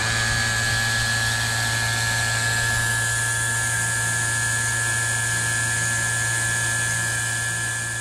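CPS Pro Set VP6S single-stage 6 CFM vacuum pump running on 115 volts while sealing jars of dried food, giving a loud, steady mechanical drone with a sharp whine that holds for the whole stretch.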